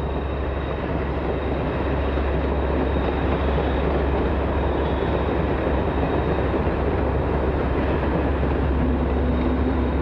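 A train runs on the Alpine railway line from Marseille to Grenoble near Lus-la-Croix-Haute, where the mountain valley opens. A steady, loud rolling rumble with a faint wheel rattle continues unbroken throughout.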